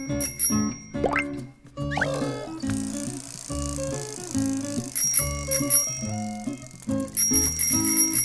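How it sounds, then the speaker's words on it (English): A bicycle bell rings in a few bright, short dings over a steady, busy backdrop of music. "Bicycle."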